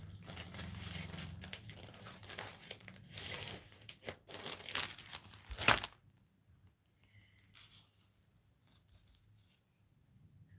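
Artist's brushes in a plastic bag rustle and crinkle up close for about six seconds during a decoupage craft project, ending with a sharp crackle before near silence.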